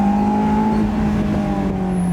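A naturally aspirated Honda S2000 engine holds a loud, steady high-rev tone throughout, its sustained note dipping slightly toward the end, with no talk over it.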